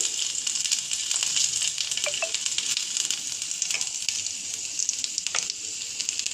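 Panch phoron spices sizzle in hot oil in a pan while cooking small fish with potatoes, a loud steady frying hiss close up with a few faint clinks of stirring.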